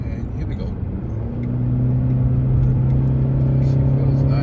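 A 2019 Honda Accord Sport accelerating on the road, its engine note rising into a steady, strong drone with rising harmonics, heard from inside the cabin with constant road rumble underneath.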